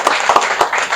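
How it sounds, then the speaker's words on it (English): Audience at a public event applauding, a brief burst of scattered clapping heard up close. "So clap for him again."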